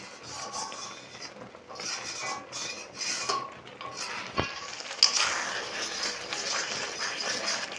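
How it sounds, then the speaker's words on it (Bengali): Thickening milk for sandesh stirred without pause in a pan: a steady scraping and rubbing of the spatula against the metal, with occasional light knocks, close and moderately loud throughout. "এইরকমই অনবরত নাড়তে নাড়তে আরও একটু ঘন হয়ে যাবে।"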